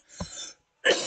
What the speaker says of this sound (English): These make me cough a lot.